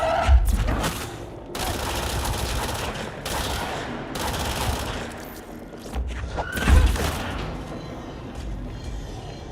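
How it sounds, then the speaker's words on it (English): Burst-fire gunshots from a weapon in the video game Control ring out in several loud, close clusters of rapid shots, separated by short pauses, with booming low-end thumps. "Burst firing this gun is the best way of using it, I think."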